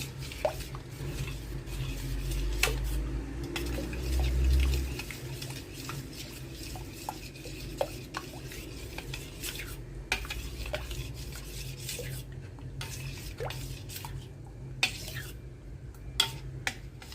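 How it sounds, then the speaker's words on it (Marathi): A spoon stirs powdered sugar into ripe guava juice in a container, making soft swishing and scattered clinks against the side, with a low hum underneath throughout. "पिठी साखर आहे ती छान प्रकारे मिक्स झाली पाहिजे याच्यामध्ये"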